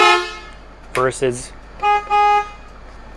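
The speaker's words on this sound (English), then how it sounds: "turn the air horn on and off" A 2008 Journey 39Z motorhome's air horn gives a couple of short, loud tonal toots, with a person talking between the blasts.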